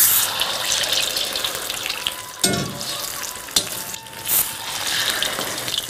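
Quail pieces deep frying in hot oil make a dense, close, steady sizzle, broken by a few sharp clicks and knocks of a utensil.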